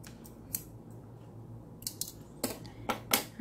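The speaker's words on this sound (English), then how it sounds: "And cut the yarn, cut the thread" Scissors snip crochet yarn thread in a few sharp, close metallic cuts, one early and a quick cluster toward the end, over a quiet room hum with no talk.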